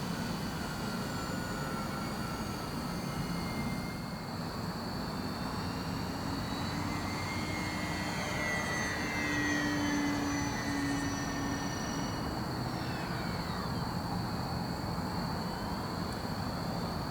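An E-Flite Beechcraft D18 radio-controlled model airplane flies overhead, its electric motors making a steady, moderately loud whining drone with pitch sweeps as it passes and maneuvers, heard at a distance outdoors.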